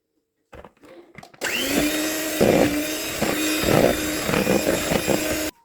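Electric mixer beating wet cake batter made with oil, a loud continuous whirring drone that starts abruptly after a few clicks and holds steady with rhythmic surges until it cuts off.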